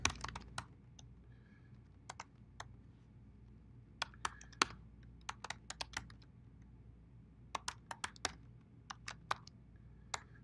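Typing on a computer keyboard: scattered bursts of crisp key clicks at close range against a quiet background, with pauses between short runs of keystrokes.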